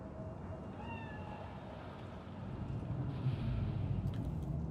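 A cat meows in the Cyberpunk 2077 video game, giving a few short rising cries over a steady low hum of ambient background noise.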